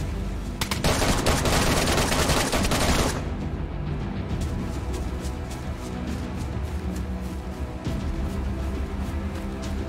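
In the survival game DayZ, a long burst of rapid automatic gunfire rips out for about three seconds, followed by scattered single shots and echoing reports against a low ambient rumble.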